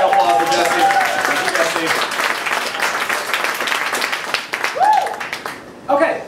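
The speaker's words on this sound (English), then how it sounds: "So round of applause for Jesse." Audience applause at a 3D printing talk in a venue, a burst of clapping that gradually thins out, with a voice talking over it.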